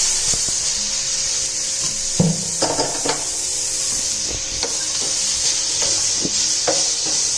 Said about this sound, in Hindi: Don't put water, just glaze the pan with water.